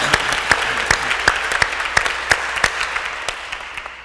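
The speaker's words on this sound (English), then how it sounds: "Let's give him a round of applause for all the work he did" A crowd claps steadily, with sharp individual claps standing out in a quick, even rhythm before the applause tapers off.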